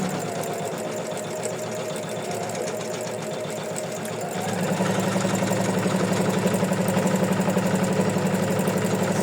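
Embroidery machine stitching an in-the-hoop sequin bookmark design, a steady rapid mechanical chatter that grows louder and denser partway through and runs continuously without talk.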